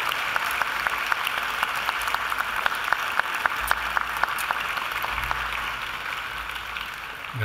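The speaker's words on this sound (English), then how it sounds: "give them, in thanks, a mighty round of applause." Graduates at a university ceremony applaud their family and friends, a broad, steady round of clapping from a large audience in a hall, with individual sharp claps standing out, fading slightly near the end.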